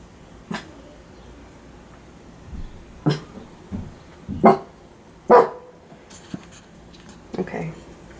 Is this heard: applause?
no